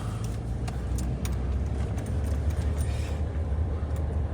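A car drives along a beach in Nassau County on Amelia Island, Florida, its engine a steady low rumble with tire and wind noise, continuous and fairly close throughout.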